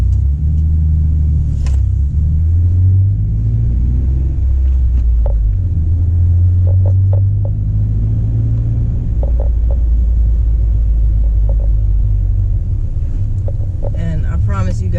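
Jeep Wrangler with a 3.8L V6 and Dynomax cat-back exhaust giving a steady, deep low rumble that rises and falls slightly, close to the camera, with some wind buffeting over the microphone.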